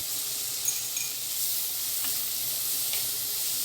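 Onions tempered with turmeric sizzle steadily in a hot pan while preparing cassava snacks, a continuous close, even frying hiss with a few faint crackles and no talking.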